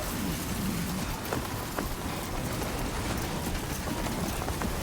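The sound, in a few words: thunder and rain in the Death Stranding 2 video game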